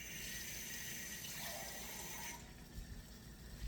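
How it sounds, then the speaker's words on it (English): Plain water poured into a pot of jasmine rice, a soft steady splashing stream that stops partway through, leaving faint small knocks, quiet and close. "Now I'm going to add some plain water into this."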